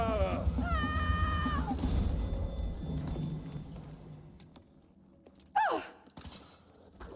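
Cat meows and yowls from the LEGO Batman video game, with several rising and falling cries early on and a sharp yowl near the end, mixed with game effects and a few crashing sounds.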